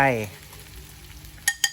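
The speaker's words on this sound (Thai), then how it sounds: "ก่อเตาตั้งกระทะ ใส่น้ำมันแล้วก็ ใส่เครื่องแกงลงไป" Curry paste sizzling and frying in oil in a well-worn wok for an eel curry, a steady crackling hiss following a brief voice at the start, with two sharp metallic clanks of a utensil near the end.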